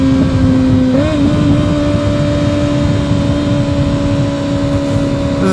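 Kawasaki ZX-6R motorcycle accelerating hard on a straightaway, a loud high-pitched engine whine that climbs sharply then holds steady at high revs, close up, with rushing wind beneath and no talking.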